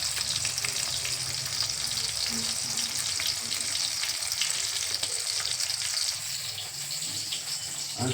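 Bata fish curry frying in a pan, a steady, close sizzle running without a break, with faint stirring and no voices.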